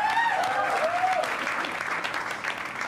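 Enthusiastic audience applause for a performer, Sharon Verma, on a comedy talent show, a dense burst of clapping that fades slightly over a few seconds, with a brief voice near the beginning.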